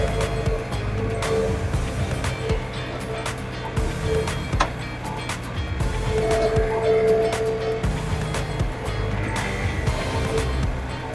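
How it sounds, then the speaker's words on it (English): A heavy 4,000-pound tractor loader works through packed, frozen snow, its engine drone steady and fairly loud throughout, with scraping and knocking bursts from the bucket, close by and with no talk. "The other thing that's odd is this is a heavy tractor."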